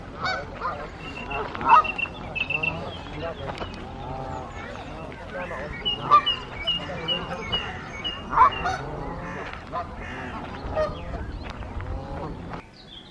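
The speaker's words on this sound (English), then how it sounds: "That is a lot of birds." A large flock of geese honking and calling continuously by the River Trent in Nottingham, many overlapping cries at moderate distance, with occasional voices mixed in.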